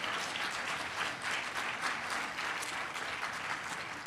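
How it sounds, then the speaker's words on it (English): An audience at a juvenile justice celebration claps steadily in a continuous wash of applause, moderately distant and even, with no voices rising above it. "let's clap for that,"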